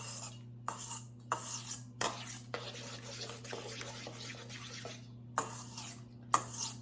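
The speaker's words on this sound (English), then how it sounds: "got to get it stirred" A utensil stirs tortellini salad in a bowl, giving soft wet scrapes and a few sharper knocks against the dish, spaced irregularly over a quiet kitchen hum with no talking.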